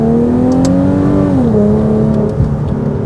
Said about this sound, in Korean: 다운 소리 너무 좋은데?